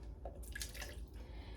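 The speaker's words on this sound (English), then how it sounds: "So we're going to put our water," Water poured into a silicone baking form while mixing a cake: faint splashing and dripping trickles in a quiet room, with soft background noise and no speech.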